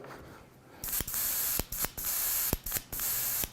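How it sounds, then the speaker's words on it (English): A steady spray gun hiss of opaque white paint begins after a moment of near silence and runs continuously, broken by several short pauses and clicks of the trigger. "There we go, got spraying right now."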